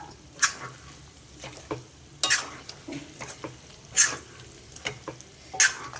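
Mango chicken gravy curry with chicken masala and coriander is stirred in a pan: a handful of sharp spoon scrapes against the pan, spaced about a second or two apart, over a soft bubbling simmer, heard close and without speech.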